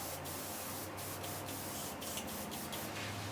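An airbrush sprays paint with a steady hiss at about 25 psi, needle stop off, a continuous close whoosh broken by several short sharper bursts.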